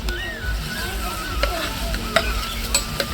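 Green chili, eggplant, potato and beans hit hot oil in a pan for a village-style vegetarian dish, giving a loud, close, steady sizzle with scraping stirs and a few sharp clinks.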